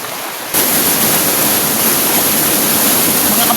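Mountain waterfall roaring as a loud, steady, dense rush of falling water that kicks in abruptly after half a second of quieter background and then holds constant up close.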